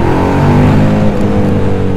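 A KTM Duke 990 twin-cylinder motorcycle engine revs hard and holds near the limiter, a loud, close, continuous buzzing drone.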